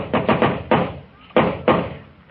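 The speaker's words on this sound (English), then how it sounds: "In a minute, he'll knock on that door." Several firm knocks on a door, uneven in spacing and close by, each ringing briefly, with a voice starting right at the end.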